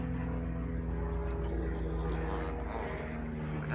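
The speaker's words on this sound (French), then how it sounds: "je crois qu'il y a un hélicoptère qui passe" A helicopter passing overhead at night, a steady loud droning rotor and engine roar that fills the whole stretch, with no talk over it.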